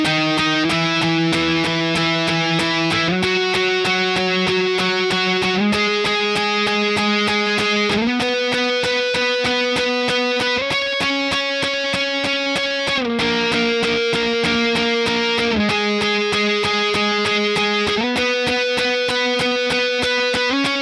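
Electric guitar playing the octave lead line from the Foo Fighters' "Best Of You", a loud, continuous run of quickly repeated picked octaves that shifts pitch every few seconds, with no talk.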